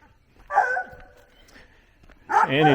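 Dogs including a coonhound let out two loud, close barks, the first a drawn-out howling bark and the second coming after a short, nearly quiet pause.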